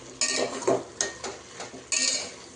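Mushrooms being mixed in a pot with a metal spoon, giving repeated scraping and clanking strokes in an uneven rhythm, close and clear with no talking.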